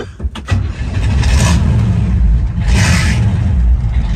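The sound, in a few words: old Chevy truck engine starting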